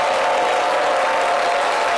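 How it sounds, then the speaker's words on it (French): Studio audience on a television talk-show set applauding a guest, steady dense clapping throughout at a constant level, with faint voices blended underneath. "Je voudrais qu'on applaudisse très fort pour ce monsieur que vous allez nous présenter."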